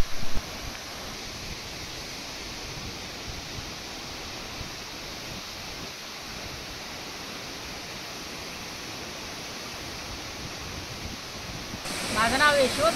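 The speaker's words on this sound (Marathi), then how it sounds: "आपण ह्या धबधबा जो आता बघायला आलेत त्या धबधब्याचं नाव मांडवकडा आहे." Mandavkada waterfall near Ghanbi, Patan, in Satara district roars as a steady, even wash of broadband noise that continues throughout, with a louder rustling burst near the end.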